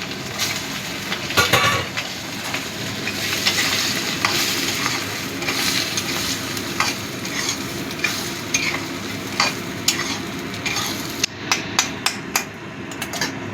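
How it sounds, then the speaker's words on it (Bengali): Giant freshwater prawn legs fry in hot oil, giving a steady crackling sizzle throughout, with sharp clinks and taps of a utensil against the pan as they are stirred and turned. "এবার পাগুলো ভেজে নেব"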